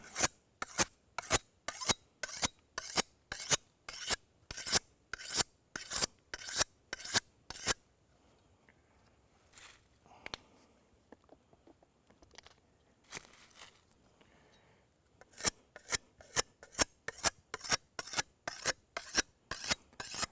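A file drawn repeatedly along a large knife blade makes steady, evenly spaced rasping strokes, close and crisp, with a quieter pause midway before the rhythmic filing resumes.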